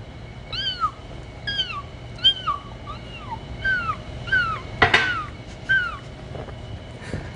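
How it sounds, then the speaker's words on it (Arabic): A kitten gives a run of about eight thin, high, repeated meows, moderately close over a low background hum, with a brief rustling noise near the middle. "هذا صوت قطو صغير."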